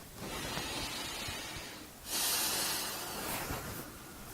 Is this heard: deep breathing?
yes